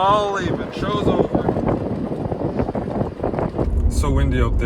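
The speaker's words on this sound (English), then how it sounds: "So windy out there, you can't even hear me." Strong wind gusting across open farmland after a nearby tornado, roaring over the microphone while someone talks over it loudly.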